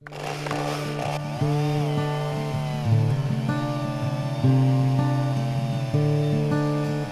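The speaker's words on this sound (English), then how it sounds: "we use this chainsaw mill to mill up some bush lumber" A chainsaw mill runs steadily and loudly, its engine pitch rising and falling as it cuts lumber from wood, with no voices.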